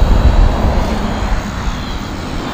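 A small, docile quadcopter drone flies with a steady, airy whirring buzz from its rotors. The sound stays continuous and fairly loud throughout, with no one talking.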